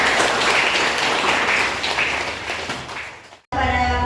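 Brief clapping from a class of students in an online teaching session rises and fades over about three seconds, moderately loud, before cutting off abruptly into other sound.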